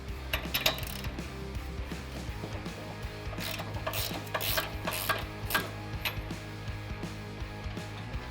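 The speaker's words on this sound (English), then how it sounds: "We're gonna use a 19mm socket for this large nut on the back, and we'll just break this guy free" A 19mm socket on a ratchet works loose the large nut on the back of a Toyota Tacoma coilover, giving a run of sharp metallic clicks and knocks in uneven bursts, fairly close, over a steady low hum.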